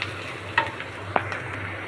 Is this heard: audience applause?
no